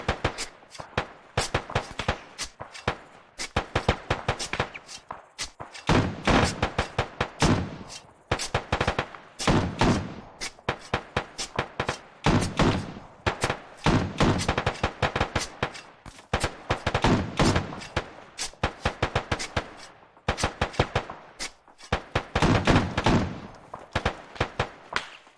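Heavy .50 caliber machine gun fire in a military video game, long rapid bursts of loud, sharp reports repeating almost continuously with brief gaps between volleys.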